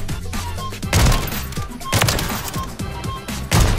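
Rapid loud gunfire bursts from a Call of Duty match where a Longbow sniper rifle is in use, several sharp shots in quick succession with a clattering, crowded battle texture.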